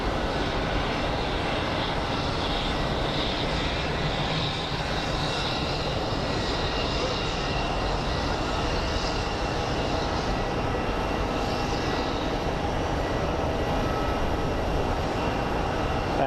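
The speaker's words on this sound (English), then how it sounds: "Nice landing by the A320." Airbus A320 landing at Phoenix Sky Harbor airport, a steady, loud broadband roar of jet engines and rushing air that holds constant throughout with no talking.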